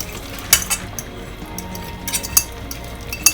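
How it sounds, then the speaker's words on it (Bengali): Noodles go into a pan of hot oil with a light sizzle, punctuated by several crisp metallic clinks and scrapes of a utensil against the pan. "তেলটা গরমও হয়ে গেছে, এখন আমি এটার মধ্যে দিয়ে দিচ্ছি"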